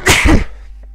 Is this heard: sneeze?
yes